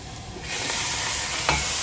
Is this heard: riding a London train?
no